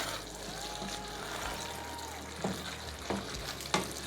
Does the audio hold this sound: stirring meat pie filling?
yes